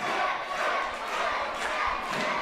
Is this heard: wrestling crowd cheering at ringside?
yes